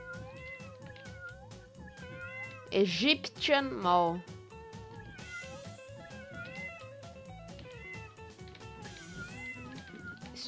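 Cats meowing in the game Tasty Planet, a cluster of loud, close yowls rising over looping game music, with someone talking through much of it.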